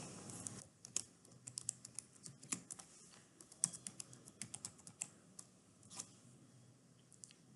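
Keys tapped on a computer keyboard while entering a password, a quiet, irregular patter of individual keystrokes with a few sharper clicks, close and alone.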